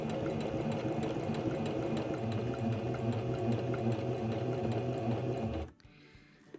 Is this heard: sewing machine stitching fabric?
yes